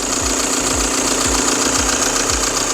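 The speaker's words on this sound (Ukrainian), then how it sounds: "Глянь, як двигун шипоче." A car engine runs steadily at idle, a broad airy hiss over a low rhythmic knocking pulse roughly twice per second, close and continuous.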